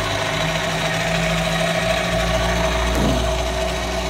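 South Bend CL-187RB 10-inch by 36-inch belt-drive tool room lathe running, a steady mid-pitched motor hum with a faint tonal whine, constant and close, no voices.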